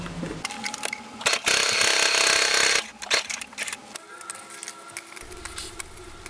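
A sewing machine stitches a homemade cloth face mask, its motor whirring in short bursts with one long, loud sustained run in the middle before dropping to quieter, intermittent stitching.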